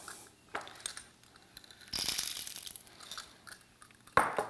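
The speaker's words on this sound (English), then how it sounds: "we're gonna go ahead and put some coffee right into it" Coffee beans poured into a coffee grinder at home: several brief, crisp rattling bursts of hard beans tumbling into the hopper, louder and longer in the middle, with quiet pauses between.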